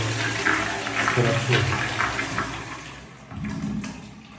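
A toilet flushes in a newly finished house shown for sale, with a loud rushing wash of water that swells, eases, then surges again near the end; faint voices are heard beneath it.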